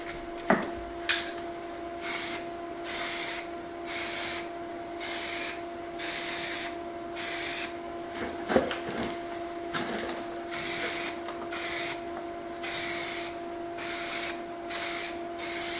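An aerosol spray paint can hissing in a steady run of bursts, roughly a dozen regular sprays of about a second each with short gaps, plus a few clanks of the can near the start and middle, close and alone.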